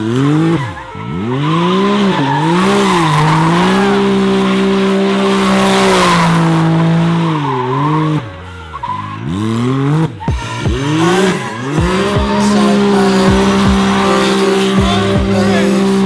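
A Can-Am Maverick X3 side-by-side drifts with loud, nearby tire squeals and skidding, its engine whining and revving in rising and falling sweeps, with brief pauses between slides.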